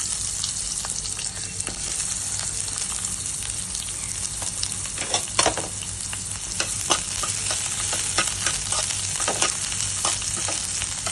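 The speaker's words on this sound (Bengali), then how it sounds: "এবারে আমি পেঁয়াজগুলো ভেজে নেব।" Onions fry in a pan of hot oil with fenugreek and chilli, giving a constant close sizzle dotted with crisp crackles and occasional spatula scrapes, without talk.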